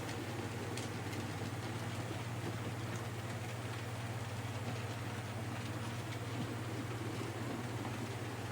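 An Accurascale Buckjumper model steam locomotive simmers steadily at rest on shed, a constant hiss and low hum with faint crackles, quiet and unchanging throughout.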